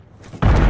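A frag grenade detonates in a multiplayer shooter match, a sudden loud boom that bursts in and holds a heavy rumbling roar through the rest of the moment.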